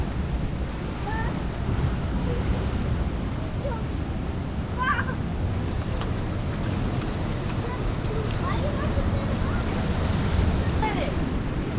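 Ocean waves wash continuously onto a Costa Rica beach, a broad rushing roar with wind buffeting the microphone, while faint voices and calls come and go in the background.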